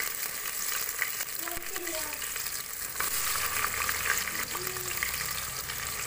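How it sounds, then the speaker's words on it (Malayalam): Ginger, onion and small shallots sauté in hot oil for a chicken curry, producing a steady, close hiss of frying that continues unbroken, with faint stirring scrapes. "ഇഞ്ചി സവാള ചെറിയുള്ളി ഇട്ട് കൊടുത്ത് നന്നായി വഴറ്റിയെടുക്കുക"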